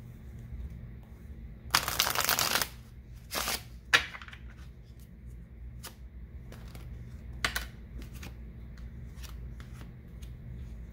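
A tarot card deck is shuffled, one long riffling burst followed by shorter flicks and taps of cards, close and fairly quiet, with a faint steady background hum.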